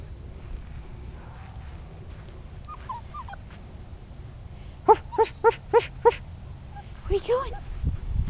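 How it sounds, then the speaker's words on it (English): Five-week-old puppies give a quick run of five sharp yips, then a few whimpers, over low background rumble, with a voice talking nearby. "Hyper puppies."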